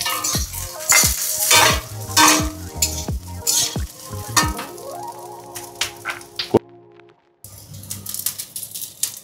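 Chicken pieces dropped into hot oil for chilli chicken, sizzling loudly while a metal spatula scrapes and knocks the pan in quick repeated strokes, the frying hiss continuing after a short silent break.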